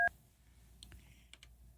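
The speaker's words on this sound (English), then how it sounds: "I've got to push buttons." Phone buttons pressed one after another to dial a number, a few short, sparse keypad tones and clicks spread over a couple of seconds, fairly quiet with no talking.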